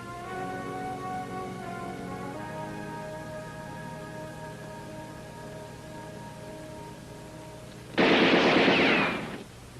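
A sharp burst of gunfire cracks out near the end of a 1966 western adventure scene, loud and broad after a long sustained musical tone, lasting about a second and a half before fading.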